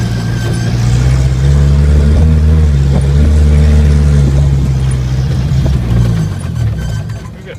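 A 1980 Chevy Luv pickup accelerating in second gear, its engine droning loud and steady with a rising pitch, then tapering off at the end, with no talk.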